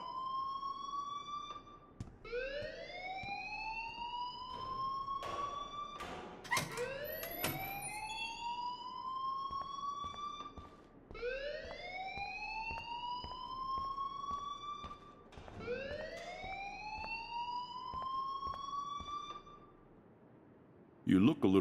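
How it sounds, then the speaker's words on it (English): An alarm in the Life is Strange video game wails in rising, swooping tones, repeating about four times in a regular cycle, with sharp clatter and faint voices underneath. "please turn off that alarm since that's your job."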